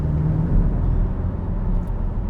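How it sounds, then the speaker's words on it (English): A Porsche 718 Cayman's turbocharged 2.0-litre four-cylinder engine building boost, a steady, low drone with a rumbling undertone, holding fairly constant as the engine pulls, close and moderately loud. "I quite like the sound of this car building its boost and delivering that torque"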